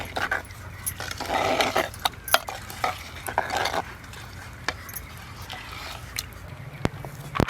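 Curd chutney with chopped onions, green chillies and salt is mixed in a bowl, producing close, wet stirring and soft scraping strokes with occasional light clinks.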